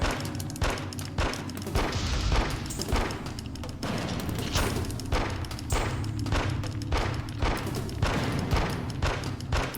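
Sustained AK-47 gunfire in The X-Files: Resist or Serve, a rapid run of loud sharp shots repeating steadily through the whole stretch with only brief gaps between bursts.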